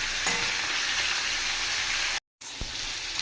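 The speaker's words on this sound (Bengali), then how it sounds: "মাছের মাথাটা ভেজে আমি ডালের মধ্যে দিয়ে দেবো।" Fish head sizzling and frying in hot oil in a pan, a steady dense hiss with a brief cut of silence near the end and a soft clink after.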